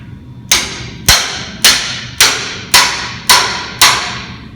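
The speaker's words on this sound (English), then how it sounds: "And then I can use my hammer" Seven evenly spaced, sharp metallic hammer taps on a metal jump ring clamped in a vise, each strike ringing briefly before the next, close and loud with no talk.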